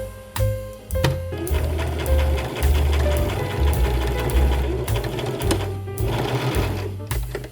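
A sewing machine stitches a dress in short bursts, its rapid mechanical whirring and thumping starting and stopping several times, close and loud with brief pauses between runs.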